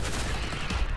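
Rapid bursts of automatic turret gunfire in the World War Z video game, loud and continuous for a moment with no voices over it.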